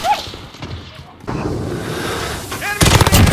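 Gunfire in Call of Duty: Modern Warfare comes as rapid shots and booming blasts over continuous battle noise, ending in a dense, loud burst of fire.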